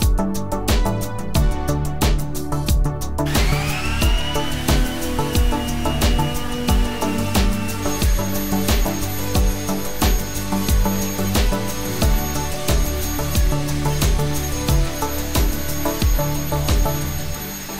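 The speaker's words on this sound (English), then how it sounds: "So I'm going to sand it and refinish the top of this table." A power sander works across the gouged, scratched wooden top of a 1980s hutch table, droning steadily and loudly throughout with no talk.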